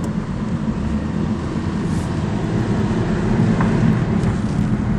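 A 2001 Nissan Skyline R34 GT-T coupe with a Tiptronic automatic gearbox cruising smoothly, giving a steady, even road and engine hum with no sharp changes and no talking.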